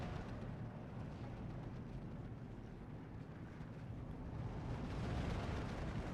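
Distant explosions and gunfire from a Steel Division 2 battle rumble on in a dense, continuous low roar. The booms are muffled and merge together, swelling slightly toward the end.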